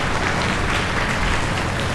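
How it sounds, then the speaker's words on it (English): Audience applause at an investiture ceremony, a dense, loud, even burst of many hands clapping together, sustained briefly with no speech. "a very big hand, an applause for this wonderful program today"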